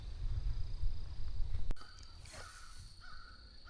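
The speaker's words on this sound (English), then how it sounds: "Keep hearing these crows." Crows cawing in a swamp during a turkey hunt, a few harsh calls from some distance after a loud rustle, over quiet outdoor ambience.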